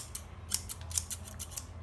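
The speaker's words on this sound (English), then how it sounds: "Now here I have my scissors. See how satisfying sound it makes." Scissors snip repeatedly in a quick, uneven rhythm, with crisp close-up metallic cuts over a low background hum.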